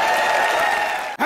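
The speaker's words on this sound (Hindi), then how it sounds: "जोरदार तालियां।" Loud, sustained clapping from a studio audience at the Comedy Nights Live comedy show rolls on evenly and then cuts off abruptly right at the end.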